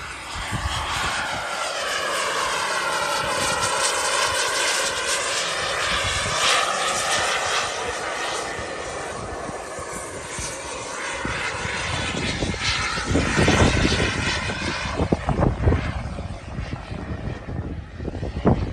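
A BDX Aero Sport RC model jet flies past at high speed, its turbine roar loud and continuous for the whole stretch, swelling and fading as it passes and turns, with no voices over it.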